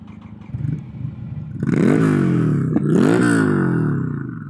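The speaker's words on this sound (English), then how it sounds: "Let's get a little exhaust check on both of them, since they both have exhausts." A Ducati Desert Sled Scrambler motorcycle with an aftermarket exhaust idles, then gets two sharp throttle blips that rise and fall, loud and close, with a brief clatter between them.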